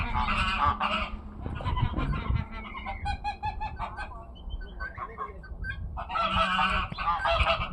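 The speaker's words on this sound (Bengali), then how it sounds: "এখানে হাঁস পালে, এগুলো হচ্ছে হাঁস।" Ducks and other fowl call at a farm, loud nasal honking bursts near at hand alternating with higher squawks and clucks, overlapping in an irregular chorus.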